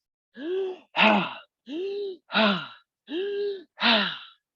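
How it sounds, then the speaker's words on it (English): Wim Hof style breathing through the mouth: three close, rhythmic cycles, each a voiced inhale followed at once by a forceful, breathy exhale, with short silences between them. "we're going to inhale and exhale out the mouth. And it's going to be a Wim Hof style breath"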